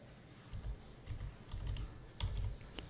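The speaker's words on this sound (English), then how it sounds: "Just type the old pin and just confirm the old pin again." Keys tapped on a computer keyboard while a PIN is entered to lock a USB pendrive, coming as short bursts of clicks spread over a few seconds, fairly quiet and close, with no one speaking.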